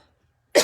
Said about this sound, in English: And I'm going to cough again.